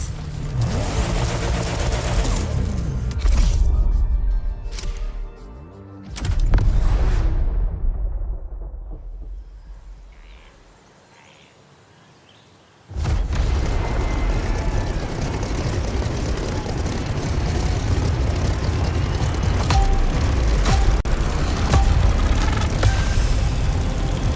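Aircraft engine roar in The Crew Motorfest on PS5, loud and sustained, with a heavy rumbling burst, a brief dip into near silence, then a steady powerful drone as the plane takes off.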